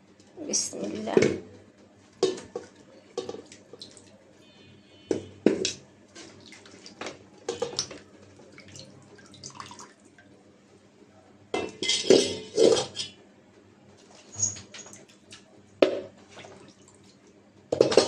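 A cooking pot is washed under running water, with splashing, dripping and intermittent metallic clinks and scrapes in uneven bursts, close and moderately loud.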